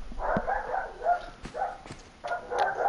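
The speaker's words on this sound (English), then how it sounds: "My dogs are freaking out." Dogs bark in a home during a gaming stream, a few moderate yips and woofs in short bursts, heard somewhat off-mic.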